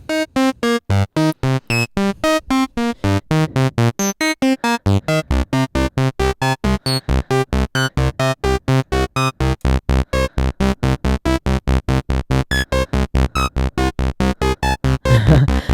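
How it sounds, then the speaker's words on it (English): A Moog Grandmother synthesizer plays a rapid stream of short, evenly pulsed notes whose pitch jumps randomly from step to step, loud and steady, with no voices. "It's randomly transposing this."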